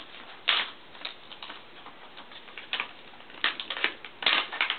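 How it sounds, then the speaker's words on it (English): A paper envelope is torn open by hand, giving a series of faint, irregular crinkling rips and scratchy bursts that come close together and stop and start without any talk. "I just kind of tore up the envelope accidentally."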